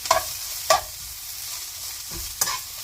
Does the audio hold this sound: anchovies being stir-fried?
yes